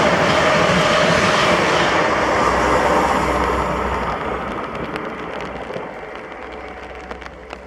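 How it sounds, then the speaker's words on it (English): A TransPennine Express passenger train bound for Manchester Airport from Edinburgh roars past at Kirknewton, a loud, broad rumble close by that slowly fades, with clattering wheel noise toward the end. "first catch was 1M99, the 1431 Transpennine Express service to Manchester Airport from Edinburgh"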